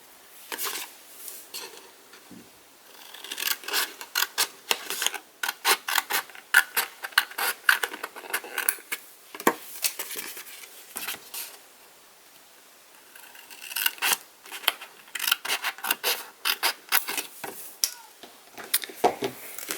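Close, crisp snips of scissors cutting paper pieces off a handmade coin envelope, coming in irregular bursts of rapid clicks with brief pauses, no talking.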